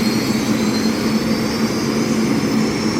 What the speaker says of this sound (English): Little flame, little more flame, and he's away from the dock.